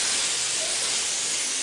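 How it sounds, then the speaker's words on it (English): An airbrush sprays paint at about 35 psi, giving a loud, continuous bright hiss that stays steady from start to finish with no talking. "And we're just going to spray. And again, air first and last. Spray at about 35 psi."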